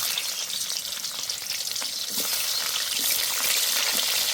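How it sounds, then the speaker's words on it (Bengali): Capsicum pieces frying lightly in hot oil, a bright continuous sizzle close by with a few stirring clicks, growing slightly louder toward the end, no talking. "তেলে হালকা করে ক্যাপসিকামটা একটু ভেজে নেব।"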